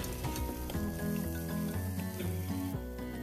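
Onions frying in hot oil with carom seeds in a pressure cooker, a continuous close sizzle with crackling and some stirring, steady throughout, no talking.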